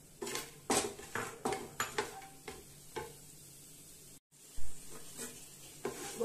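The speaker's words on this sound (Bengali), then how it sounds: "এর মধ্যে আমি এবার বড়িগুলো ভেজে নেব।" Lentil dumplings (bori) frying in hot oil in a home kitchen, a soft sizzle beneath repeated sharp clinks and scrapes of a utensil stirring against the pan, with one brief silent gap near the end.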